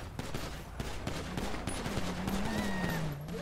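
Rapid gunfire crackles in the GTA 5 video game, with dense bursts of shots in a steady stream. A faint tonal sound runs underneath.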